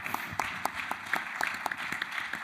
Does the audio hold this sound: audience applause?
yes